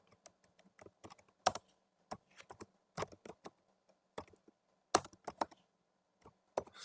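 Keys clack on a computer keyboard in scattered, irregular taps and short bursts, close and fairly quiet, with silence between strokes.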